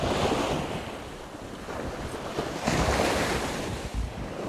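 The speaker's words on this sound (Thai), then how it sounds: "คลื่นซัดแรงมากอะ" Strong waves surging and crashing on a beach shore during a night of coastal squid fishing, a loud continuous roar of surf with gusty wind buffeting the microphone.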